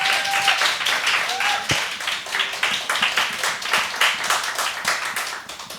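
Audience applause welcomes a professor onto the stage at a public science lecture in Seoul, a dense burst of clapping throughout with a few faint background tones.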